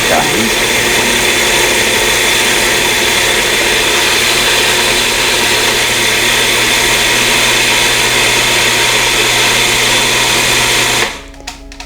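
Food processor grinding strawberries with coconut for sour strawberry vitamin C macaroons, a loud steady whirring motor running for about eleven seconds before cutting off abruptly.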